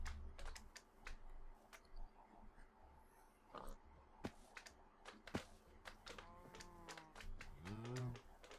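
A Minecraft cow moos twice in the Project Ozone 2 modpack, low drawn-out calls near the end, over rapid keyboard typing and clicking throughout.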